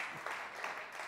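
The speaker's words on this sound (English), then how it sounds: "golf clap, that's fine" Light, scattered golf-style clapping from an audience, brief and faint, a handful of soft claps in quick succession.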